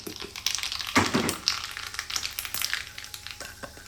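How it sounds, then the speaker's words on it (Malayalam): Mustard seeds crackle and sizzle in hot oil in a pan for a pumpkin curry, with close, busy spitting and scattered sharp pops over a steady hiss. "ഇതിലേക്ക് എണ്ണ നല്ലവണ്ണം ചൂടായി കഴിഞ്ഞതിന് ശേഷം ഇതിലേക്ക് കടുക് ചേർത്ത് കൊടുക്കുക."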